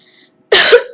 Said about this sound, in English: I gotta clear my throat, it's dry